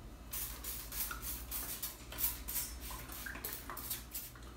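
A spray bottle of hydrogen peroxide gives a string of short, quiet squirts in quick, uneven succession, each a brief hiss.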